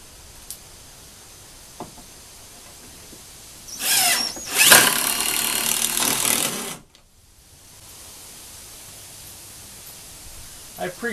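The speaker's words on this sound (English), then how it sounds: "I pre-drilled 2 holes." A power drill bores pilot holes for lag bolts through a brace on a small red barn, one sustained whirring run of about three seconds, close and loud, with a short quieter burst before it and faint ambient noise around.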